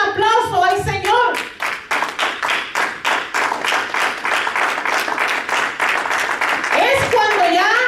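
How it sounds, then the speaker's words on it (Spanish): A church congregation claps in a fast, steady rhythm, loud and sustained, with a Spanish-speaking voice heard briefly at the start and again near the end. "Dale un aplauso al Señor"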